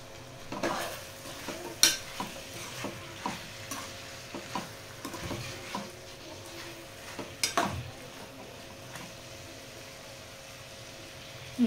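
Spicy chicken fry with garam masala is stirred in a pan, a soft steady sizzle under irregular scrapes and clinks of a spoon against metal, with a couple of sharper knocks, near and alone with no talk.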